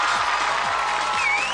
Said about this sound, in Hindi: जोरदार तालियां हो जाए हमारे स्किपर्स के लिए